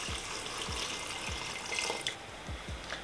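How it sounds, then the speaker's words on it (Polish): About a glass of water is poured into a pressure-cooker pot of goulash meat and spices, a steady close splashing pour with a few knocks and clinks, no talking. "Dolewamy około szklanki wody."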